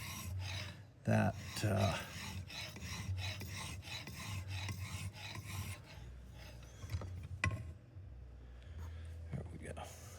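Blade being sharpened on a Nano Hone 1x6 fixed-angle sharpener, close rhythmic rasping strokes of steel across the hone, louder at first then lighter, with someone talking briefly over it.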